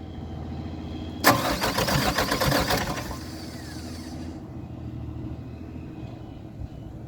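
An SK200-8 excavator engine with a suspected fault cranks in a loud rattling burst for about a second and a half, then catches and settles into a quieter, steady idle with no talk.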